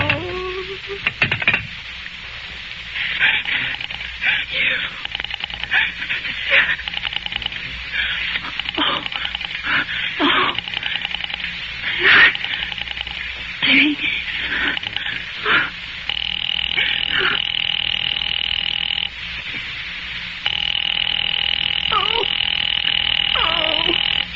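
Rotary telephone dial pulses clicking in repeated bursts as a number is dialed in an old 1940s radio drama, with a steady hum and tones under the sequence.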